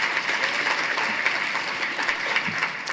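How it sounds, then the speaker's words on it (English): Conference audience gives a round of applause for the sponsors, a soft, steady patter of many hands clapping at a distance for a few seconds. "once again, a big round of applause for all of our sponsors."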